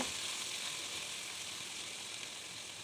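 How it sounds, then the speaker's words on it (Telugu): Ivy gourd (dhondakaya) pieces frying in plenty of oil, a steady, dense sizzle that holds even and fairly loud throughout with no voices. "వీటన్నిటిని ఆయిల్లోనే ఫ్రై చేయాలండి"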